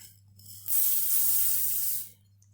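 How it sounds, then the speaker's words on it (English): Water poured from a vessel into a pot of red lentil curry, a steady close splashing rush lasting over a second before stopping, with a low hum underneath. "I've added some more water."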